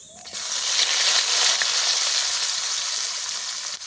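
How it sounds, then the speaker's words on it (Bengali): Chopped dry onion sizzles steadily in hot oil with whole cumin in a pan, a loud continuous frying hiss with a brief clatter at the start and no talk. "পেঁয়াজটা একটু লাল করে ভাজা করে নেব"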